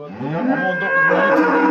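A cow at a cattle market gives one long, steady, fairly loud moo that rises slightly toward its end, heard alone.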